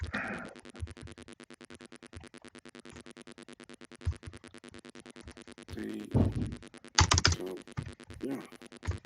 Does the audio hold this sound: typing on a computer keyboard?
yes